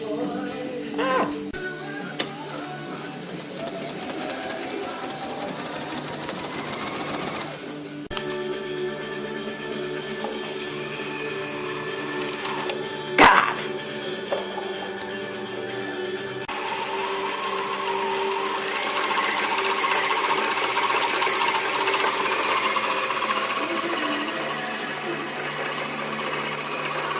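A sewing machine stitches canvas in a repair shop, whirring in bursts with brief pauses and a sharp clack midway, then running more steadily with a higher whine toward the end.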